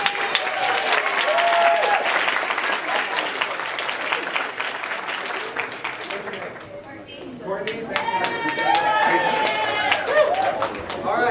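A live improv show audience breaks into loud, sustained applause with scattered cheers and overlapping voices, dipping briefly midway before swelling again as the clapping continues under chatter.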